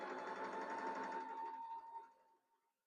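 A sewing machine runs steadily under foot-pedal control while winding a bobbin, a continuous whirring motor hum with a steady tone that holds for about two seconds, then slows and fades to silence.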